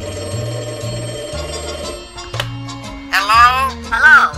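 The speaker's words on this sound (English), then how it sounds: "Ah, the phone again." A telephone rings in an old radio broadcast played on a restored 1932 Cathedral radio. The ringing is heard over music with a shifting melody and bursts of warbling tones.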